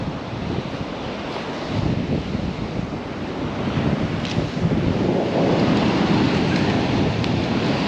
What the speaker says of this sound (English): About 4, 5, 6 foot swell out there